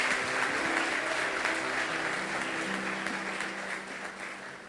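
A church congregation applauds together in a large hall, a dense, sustained wash of clapping that fades slightly toward the end, with a faint sustained tone underneath.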